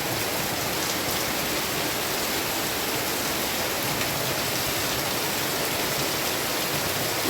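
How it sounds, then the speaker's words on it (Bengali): Steady rain falls across a green village in rural Bengal near Kharagpur, a dense, even hiss that carries unbroken throughout with no voices. "গ্রাম বাংলার বৃষ্টি"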